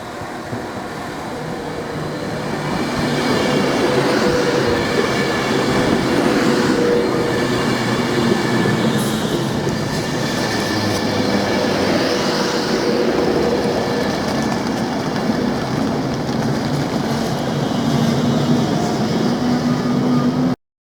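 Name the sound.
train arriving at a station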